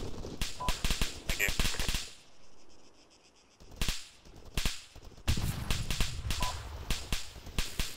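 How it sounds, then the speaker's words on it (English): Video game firefight east of town: bursts of rapid gunfire and sharp single shots in clusters, fairly loud and repeated, with a short quiet gap midway, no talk over it. "sounds like they're in a firefight east of town"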